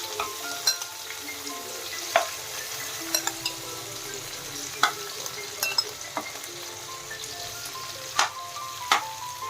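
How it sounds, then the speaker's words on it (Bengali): Prawns frying in mustard oil in a wok, a steady soft sizzle with scattered sharp crackles and pops, occasional light utensil clicks, no voices. "এবারে মাছগুলোকে ভেজে নেওয়ার পালা।"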